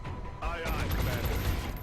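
Gunfire in XCOM: Long War, a quick burst of shots with a sharp onset followed by a dense, rattling tail that lasts about a second, fairly loud and with no talking.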